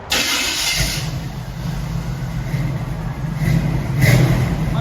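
A 1965 Chevy C10 pickup with a 350 V8, headers and Flowmaster 40 Series exhaust fires up and settles into a steady, deep rumbling idle, close and loud, swelling slightly near the end.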